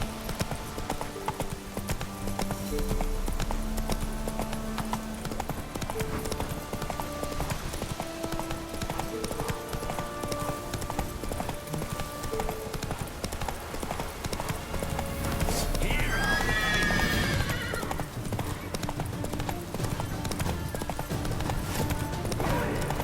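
Roach, the horse in The Witcher 3, gallops with steady rapid clip-clop hoofbeats over a thick game music score, with a brief whinny near the end.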